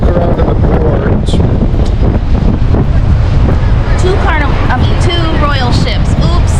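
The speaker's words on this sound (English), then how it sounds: "now it's not rainy, it's just really windy" Strong wind buffets the microphone in a cruise port, a loud, constant roar with gusty rumble throughout, while people talk faintly underneath and a few brief bird-like chirps rise near the end.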